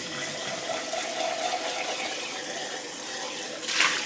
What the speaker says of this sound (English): Rinse the jar out.